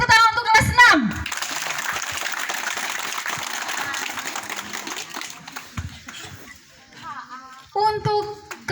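A schoolroom of children claps together for a couple of seconds, a bright rattling burst framed by a teacher's speech and children's voices before and after.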